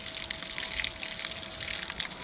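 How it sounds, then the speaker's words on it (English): A built-in livewell pump on a converted aluminum V-hull jon boat, now a bass boat, pumping water out, giving a steady close gushing rush of water that runs unbroken throughout with no talking. "And it pumps your water out."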